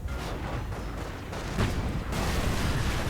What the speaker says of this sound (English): is he actually doing a creeping barrage?